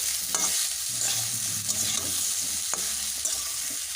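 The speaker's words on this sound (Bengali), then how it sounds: "হলুদের গুঁড়োটা দিয়ে একটু কষিয়েই ভালো করে সবার সঙ্গে মিশিয়ে নিচ্ছি" Spices frying with turmeric powder in a pan for a fish curry, a continuous close sizzle with occasional soft scrapes and taps of stirring, steady and moderately loud.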